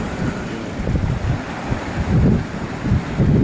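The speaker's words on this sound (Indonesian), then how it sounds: "kita dengarkan dulu suara debur ombak ini dek" Waves wash steadily onto a beach at a river mouth, with a continuous loud roar of surf and wind buffeting the microphone, and recurring swells rising and falling with no voices.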